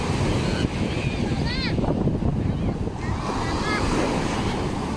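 Ocean waves wash and churn continuously close by during a storm, mixed with wind buffeting the microphone, while a person speaks over the surf.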